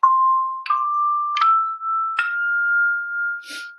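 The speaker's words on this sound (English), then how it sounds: "you can also four-in-hand your chimes" Four handbell chimes rung four-in-hand, each struck note ringing on into the next with a clear sustained tone, evenly spaced and close, with a brief metallic damping at the end.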